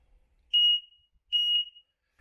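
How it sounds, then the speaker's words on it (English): A sump pump failure alarm in a mid-century ranch home sounds two loud, piercing electronic beeps, each about half a second long and separated by a short gap, alone in an otherwise silent room. "So if it fails, that alarm's going to go off."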